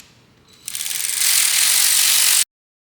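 Rapid ratchet clicking as a bolt is snugged on a BMW N54 single-turbo engine during a rebuild, starting faintly, then a loud, steady run of ticks for about two seconds before stopping abruptly.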